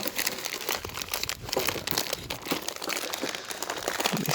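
A plastic UPS bag crinkles and rustles continuously and close up as a turbocharger package is opened. The crackling stays busy and loud throughout, with no talking.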